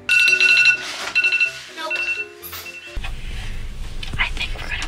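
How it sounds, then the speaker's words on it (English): A timer alarm goes off during a game of hide and seek in a dark house, a loud repeating electronic beeping melody for about two seconds, then people talk over a noisy background. "The timer went off."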